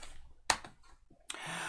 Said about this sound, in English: So we'll just type in man clear.